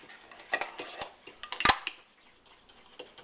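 A spoon clinks and scrapes inside a mug as chocolate muffin batter is stirred, with quick irregular taps that bunch into a louder knock near the middle, close and clear with no talking.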